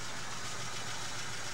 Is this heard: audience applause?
no